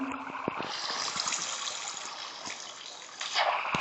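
Water flows steadily in a Minecraft-style cattle farm build, a continuous trickling wash with a few soft clicks of block placement.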